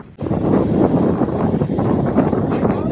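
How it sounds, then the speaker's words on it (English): Steady wind buffeting a microphone at the coast during a tropical storm, a broad continuous roar with gusty swells and no voices. "It's windy, Rob."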